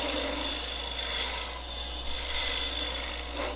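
A stummel scraper shaves wood on a spinning lathe, giving a close, continuous rasping scrape over a low motor hum.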